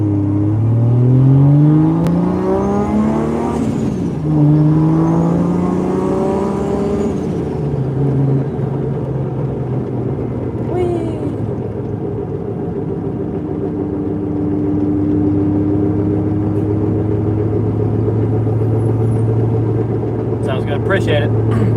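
A 1993 Toyota Mark II with a loud aftermarket exhaust revving and accelerating through gears in traffic, a deep droning engine tone rising and falling steadily inside the cabin while people talk over it.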